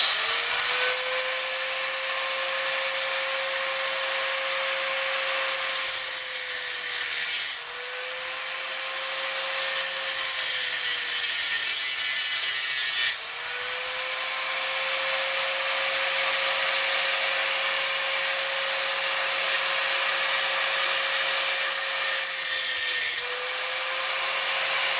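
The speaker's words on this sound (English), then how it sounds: "I'm going to use a disc and drop it down the other side on both of them" Angle grinder with a cutting disc slicing slots into a universal metal bracket for a Triumph project, a steady loud high whine running through in three long passes with brief dips between cuts.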